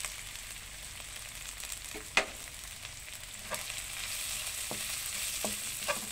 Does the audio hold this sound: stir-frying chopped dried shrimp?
yes